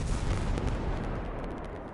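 C4 charge explosion on vehicles in a military video game, a dense, loud booming rumble that swells and slowly decays over two seconds, with no talk.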